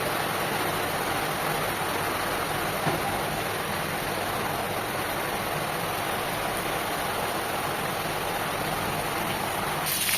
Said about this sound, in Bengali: বৃষ্টি রিমঝিম শব্দ হয়তো শুনতে পাচ্ছেন, ভালোই বৃষ্টি নেমেছে